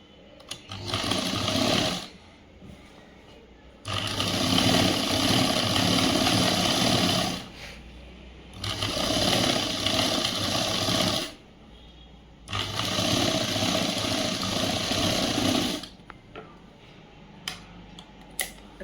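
Sewing machine stitching the folded hem of a boys' government school uniform shirt, running in four steady bursts of rapid whirring separated by short pauses, close and clear with no talk.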